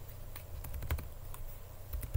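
Rapid clicking keystrokes on a computer keyboard while Python code is entered, irregular taps in quick bursts, close and fairly quiet with no talking.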